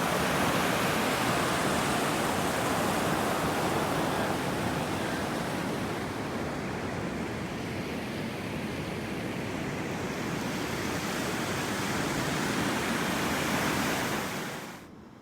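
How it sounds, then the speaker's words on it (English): The Colorado River rushes past in a loud, steady roar of flowing water that holds unbroken for the whole stretch, then tapers off sharply at the very end, with no voices over it. "And we made it to the Colorado River."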